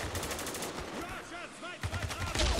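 Gunfire in the video game Spec Ops The Line as a sniper rifle fires its last round, with a couple of sharp shots ringing out amid other combat noise and a voice talking underneath.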